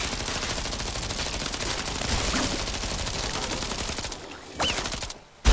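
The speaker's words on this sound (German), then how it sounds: "Ich hole mir mal eine Shotgun auf die linke Hand." Steady, dense gunfire in the PlayStation VR shooter Dick Wilde 2, with a shotgun in hand, blasting continuously for several seconds at close range, then dropping off and ending with a final abrupt blast.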